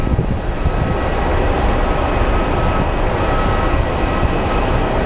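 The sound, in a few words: SkyWest Mitsubishi CRJ 700 regional jet landing at airport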